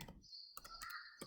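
Keys clicking on a computer keyboard in short bursts, a few quick clusters of taps with brief pauses, close and fairly quiet, with no talking.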